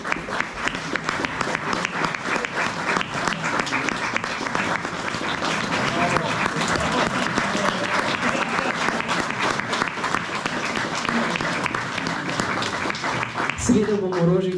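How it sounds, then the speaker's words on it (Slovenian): Sustained audience applause at a hunters' male choir concert, Lovski pevski zbor Martin Krpan from Bloke, steady dense clapping throughout, nearby and loud, with a brief voice near the end. "Še en aplavz za solistko."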